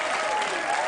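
A studio audience claps at a late-night talk show, a short burst of dense, even applause filling the whole moment.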